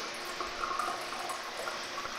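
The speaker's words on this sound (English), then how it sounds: "And you can hear me flushing it." A repaired urinal flushes with a steady, rushing stream of water running continuously at close range, even and moderately loud with no voices.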